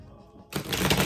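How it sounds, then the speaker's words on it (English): Tarot cards shuffled by hand, a sudden close papery riffle breaking out after a near-silent moment and continuing to the end, with no talking. "We're doing one more shuffle."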